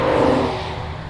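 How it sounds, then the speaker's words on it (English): A brief, loud burst of a high-revving naturally aspirated V10 in a BMW M5 estate with manual gearbox that quickly fades, leaving a lower rumble. "A naturally aspirated V10 engined estate, especially with the manual gearbox."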